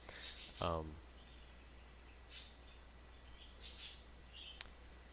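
Birds chirping outdoors, a few scattered bright calls and short tweets over a low steady hum. A voice briefly sounds near the start.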